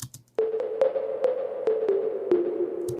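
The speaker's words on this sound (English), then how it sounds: "here's a high 808 toms with a lot of reverb on them." Bright Roland TR-808 tom hits ring out one after another in a loose melodic line, each drenched in long reverb that blurs into a sustained wash.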